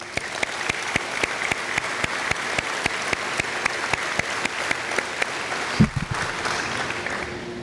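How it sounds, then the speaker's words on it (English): Steady applause from an audience at a military change of command ceremony after the national anthem, a broad wash of clapping with one distinct nearby clapper keeping an even beat, and a brief thump near the end. "Please join me in a round of applause."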